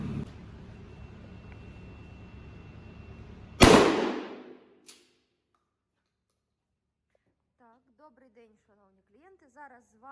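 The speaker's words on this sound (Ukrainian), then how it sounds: "Стріляти будемо з відстані 20 метрів дріб'ю." A single sharp, loud shotgun blast of birdshot fired from 20 metres at polycarbonate safety glasses breaks through a low hum, followed by a short echo and silence. Faint speech follows.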